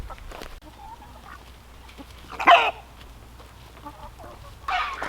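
Chickens clucking and squawking nearby, a few scattered calls with one louder squawk midway, over quiet background.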